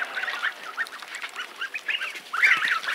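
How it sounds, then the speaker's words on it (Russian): Young farmyard geese honking and peeping in a busy, overlapping chatter of short calls close by, the calls growing louder and more insistent toward the end. "Гуси просто маленькие еще"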